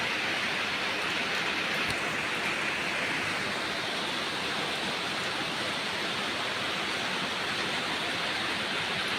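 Rain falling in a steady, dense hiss that holds even and unbroken from start to finish, with no distinct drops standing out and no voices.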